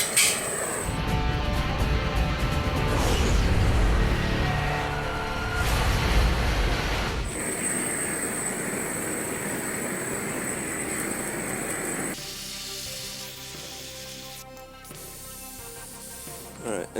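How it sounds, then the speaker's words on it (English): A big blowtorch plays over wood to char a sign outdoors, producing a loud, steady roaring hiss with surging bursts, the flame noise filling the clip before changing tone partway through. "we got a big blowtorch, so we might as well use it"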